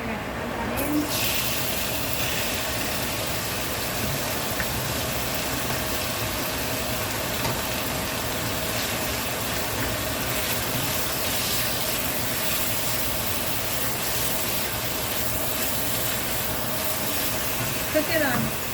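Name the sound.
chicken thigh frying in hot oil on high heat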